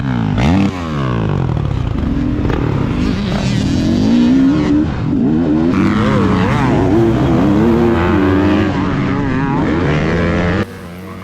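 A Beta 300 RR Race Edition motorcycle, with stiffened suspension, rips around a dirt track lap, its engine revving and shifting continuously up and down, loud and close throughout.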